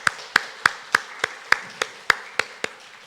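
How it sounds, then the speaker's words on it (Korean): A congregation at a Korean church's Sunday morning service claps in unison, about ten sharp, evenly spaced claps in a quick steady rhythm with nothing else heard between them. "우리 하나님께 큰 박수로 영광 올려드리겠습니다"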